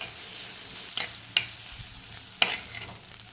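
Dry fish poriyal stir-fried in a pan, a faint continuous sizzle broken by three or four sharp spatula scrapes and taps at uneven intervals.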